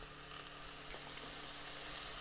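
Minced meat sizzles in a hot pan, a steady, faint hiss of frying with a few small clicks as the mince is broken up.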